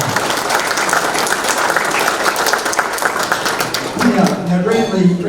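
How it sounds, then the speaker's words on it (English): An audience at a hall of fame event gives steady, loud applause that continues throughout, with a voice beginning to speak over the clapping near the end. "Give Grant Lee a bit of a round of applause"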